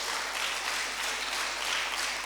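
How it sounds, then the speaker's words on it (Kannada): Audience applause at a school annual day function, a steady, moderately faint patter of many hands clapping, continuous and even throughout. "ಜೋರಾಗಿ ಚಪ್ಪಾಳೆ ಹೊಡಿಬೇಕ್ರಿ"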